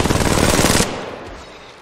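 Automatic weapon fire from the mobile battle royale game Apex Legends Mobile, a dense loud burst of rapid shots lasting under a second, then cutting off into a fading tail.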